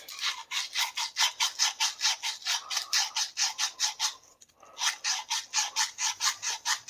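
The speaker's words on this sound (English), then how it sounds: "Scuff it up real good like that on both ends." Copper pipe ends are scuffed clean before soldering in a copper line leak repair, with brisk back-and-forth rasping strokes in a steady rhythm, close up, then a short pause and another run of strokes.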